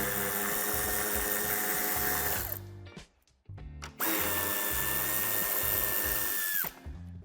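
A power tool spins off two nuts holding the tail light on a 2019 BMW 3 Series G20 sedan, two loud whirring bursts with a short pause between them, close and without talk.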